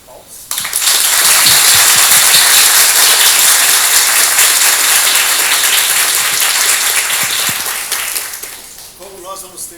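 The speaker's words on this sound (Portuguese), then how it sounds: "Então, uma salva de palmas." A lecture audience bursts into sustained, loud applause after a talk, with dense, steady clapping lasting about eight seconds before it tapers off and a voice begins speaking.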